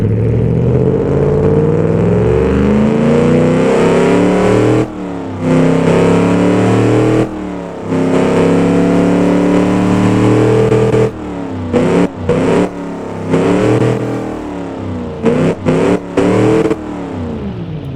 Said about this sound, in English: All right, let's rev this baby.